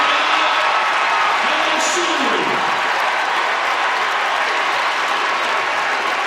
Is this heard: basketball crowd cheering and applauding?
yes